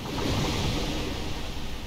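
Steady wash of ocean waves and surf rolling in Dark Souls Remastered, a continuous roar with gusty wind-like texture, fairly loud and unbroken with no talking.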